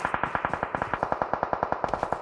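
Rapid automatic gunfire in a shooter video game, a steady burst of evenly spaced shots about ten per second, fairly quiet and dry, with no talk over it.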